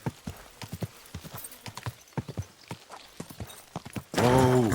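Horse hooves in the video game Kingdom Come: Deliverance II clip-clop in a steady, quick rhythm on a hard surface, then a loud whinny cuts in at the end.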